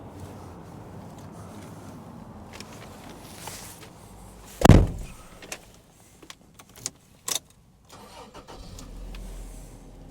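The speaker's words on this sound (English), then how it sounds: "why don't we start this engine up" The 2-liter four-cylinder fuel-injected 3SFE petrol engine of a 1997 Toyota Townace Noa 4WD van cranks and catches, a sharp burst near the middle, followed by a few clicks and a low idle settling in.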